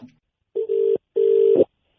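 Two long telephone ring tones with a short gap, heard alone right after a call is dialed; no voices over the ringing.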